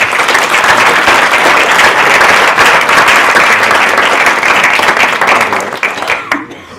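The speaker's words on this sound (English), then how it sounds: "If everyone wants to just give them a round of applause." Audience at a film screening applauding the filmmakers, loud dense clapping from a full room that holds steady for several seconds before thinning and fading out at the end.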